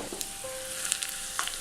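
Browned fried onion masala poured onto chicken sets off a close, bright sizzle with crackling bursts over a short pour, with no talking.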